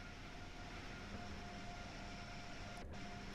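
Steady broadband rumble and hiss inside the engine room of an Acela Express in Train Sim World 3 at speed, a constant loud roar with a faint tonal whine and a brief swish near the end.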